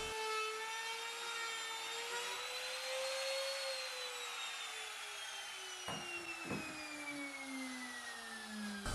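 Router with a small round-over cutter shaping the edge of a curved wooden cutting board, a loud high-pitched whine that sweeps slowly up and down in pitch as it cuts, with a couple of sharp knocks near the end.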